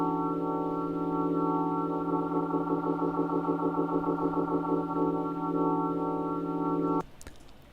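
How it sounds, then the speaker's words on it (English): An Arturia organ through a rotary speaker effect holds a sustained chord whose swirling tremolo pulses ramp in speed across the middle, then the tone cuts off abruptly near the end. "you get this really cool like ramping effect of the speed of the rotary organ"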